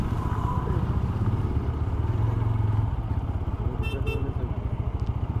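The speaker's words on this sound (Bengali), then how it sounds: "পেছনেও বাইক আসছে।" Motorcycle engines rumble close by in a stalled mountain road traffic jam, a steady throbbing drone with brief rising revs, and a couple of short horn toots near the end.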